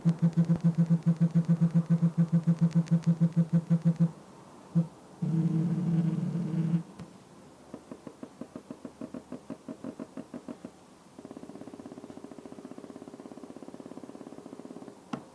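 Haptic feedback from the linear motor of a Redmi K30 Pro phone: a low, buzzing hum pulsing in rapid regular bursts, with longer continuous buzzes and short taps in between, close and fairly clear.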